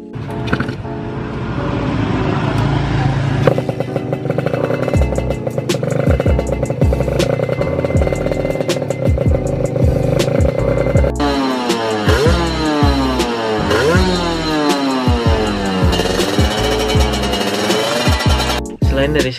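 A two-stroke Kawasaki Ninja RR motorcycle with a full stainless Altech exhaust revs loudly and repeatedly, its buzzing, crackling exhaust note rising and falling in pitch throughout.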